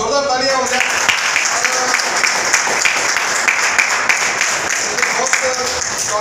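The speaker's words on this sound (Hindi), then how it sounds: "तो इन थोड़े से लोगों के लिए और इन शहरों के बच्चों के लिए और हमारी दीदियों के लिए एक बार जोरदार तालियां हो जाए।" Seminar audience applauding together, a steady broadband wash of clapping that fills the whole stretch, with a speaker's voice audible at the start.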